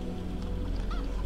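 A chicken in the video game Arx Fatalis clucks briefly near a fire, its calls blending into a steady, dense background rumble with no talking.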